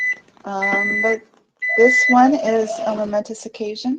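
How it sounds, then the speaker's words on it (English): Electronic alarm beeping in steady pulsed tones, loud and close, breaking off briefly before a voice speaks over it as it continues. "Oh, sorry about the beeping."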